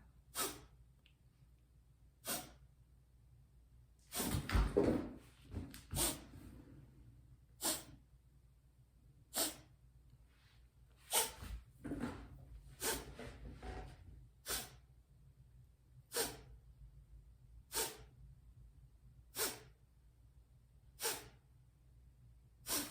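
Sharp rapid breaths pumped out through the nose in a steady rhythm during a breathwork and restorative yoga session, close and loud, with a denser flurry of quicker puffs partway through.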